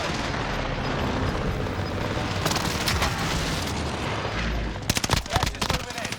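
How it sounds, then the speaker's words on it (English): Precision airstrike in Call of Duty Warzone on Fortune's Keep, a rumbling barrage of explosions and gunfire, with a dense cluster of close, loud, rapid impacts near the end. "Enemy precision airstrike."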